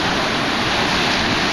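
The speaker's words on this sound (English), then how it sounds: "Got some big swell waves." Big ocean swell waves roll in on a windy shore with a west wind, making a loud, continuous broadband roar with no breaks.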